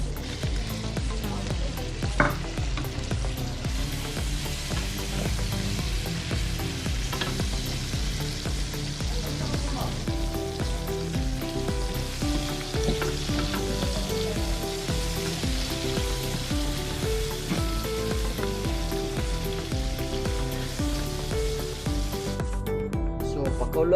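Tikling, a barred rail bird, frying in a pan with mung beans nearby, giving a loud, continuous sizzle and crackle that stays close and steady throughout, with no speech over it.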